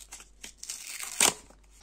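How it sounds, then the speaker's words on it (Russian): A paper surprise packet holding toy figures is torn open by hand, heard close up as brief crinkling rustles that build to one sharp rip near the end. "Первый пакетик откроем вот этот."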